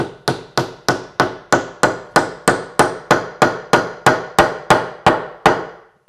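A hammer strikes a joint on a wooden stool about fifteen times in a steady rhythm, each blow a loud, hard crack close to the listener, with no talking.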